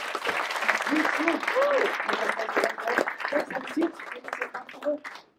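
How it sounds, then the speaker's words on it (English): An audience at a magic show applauds a volunteer joining the magician on stage, a round of clapping that thins out toward the end while voices are heard. "I'm sure you get a nice round of applause"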